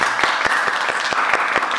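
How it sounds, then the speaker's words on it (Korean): A church congregation claps together in a brisk, even rhythm over a bed of continuous crowd applause, close and moderately loud for under two seconds. "우리의 기도를 들으시는 주님께 영광의 박수로"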